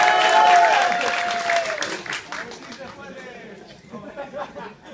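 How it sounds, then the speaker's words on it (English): Applause for Edson at an Electrical Workers Minority Caucus event in San Diego and Imperial County, a crowd clapping loudly at first, then thinning into scattered claps as chatter and a voice carry over it. "Let's have a round of applause for Edson."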